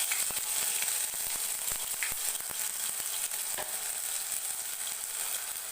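Ginger garlic paste with cumin seeds fries in hot oil for an egg chilli dish: a dense, steady crackling sizzle with sharp pops and occasional stirring scrapes, close and continuous.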